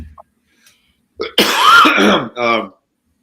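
After a brief quiet, someone close by clears their throat harshly and coughs a couple of times, loud and raspy.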